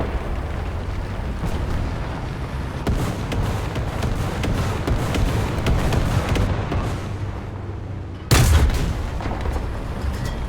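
StuG III F tank gun in War Thunder, a single loud, sharp blast that rings out late over a continuous low engine rumble and battle noise.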